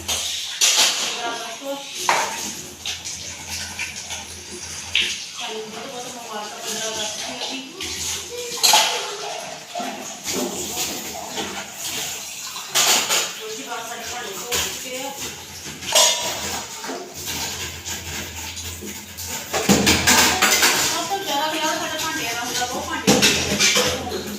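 Dishes, pots and utensils being washed by hand on a Sunday, with clinking metal, splashing and running water in irregular bursts over a fairly close, busy background while someone talks throughout.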